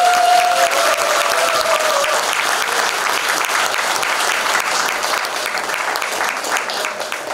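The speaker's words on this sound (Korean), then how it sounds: "안규백 국회의원님을 힘찬 박수와 함께 단상으로 모시겠습니다." Loud, sustained applause from a lecture audience welcoming a National Assembly member to the podium, dense steady clapping that slowly tapers, heard up close.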